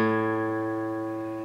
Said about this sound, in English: We will play string number 5 on its own to start with.